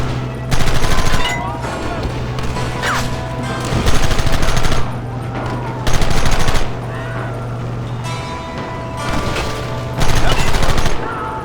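Several bursts of gunfire ring out in Red Dead Redemption during an Edgar Ross mission, loud and close, separated by short gaps and set over a steady low hum.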